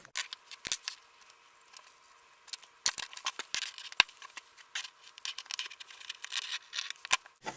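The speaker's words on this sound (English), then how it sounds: "I just cut out another little square" Scissors snip out a small square of material in quiet, scattered cuts, with sharp clicks and soft crinkling spread irregularly over several seconds, close and faint.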